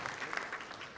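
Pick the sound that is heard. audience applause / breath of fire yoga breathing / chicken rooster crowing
audience applause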